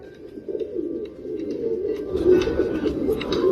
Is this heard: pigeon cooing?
yes